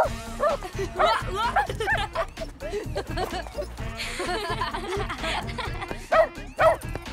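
A dog named Major barks in short yips and whimpers while playing ball indoors, the sounds coming in bursts between someone speaking to him in French and a bit of laughter.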